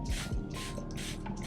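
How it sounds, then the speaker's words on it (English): Charlotte Tilbury Airbrush Setting Spray misted from close range in three or four short, breathy hissing bursts, each lasting about a quarter second with brief gaps between them. "Charlotte Tilbury Airbrush Setting Spray"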